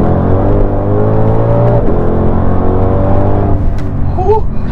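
A 2022 Ford Shelby GT500 engine roars loudly and steadily, its deep rumble rising as the car breaks traction, then easing off into a lighter whir near the end.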